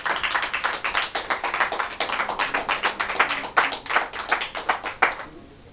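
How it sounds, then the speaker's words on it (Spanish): A church congregation claps steadily in a quick, even rhythm, many hands striking together at close range for several seconds before stopping abruptly, with no talking. "Dale un aplauso al Señor."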